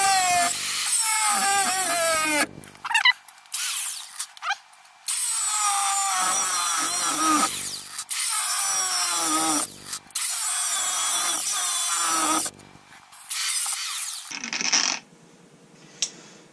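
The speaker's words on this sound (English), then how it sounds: "cut the rivet off." Power tool cutting off a rivet on a car's steering coupler rag joint, loud grinding bursts that start and stop several times with short silences between them.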